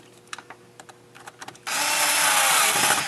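A screw is driven in while reassembling a computer's mallet board, a few light clicks and taps followed by a sudden steady whirring of a powered driver that runs to the end, close and fairly loud.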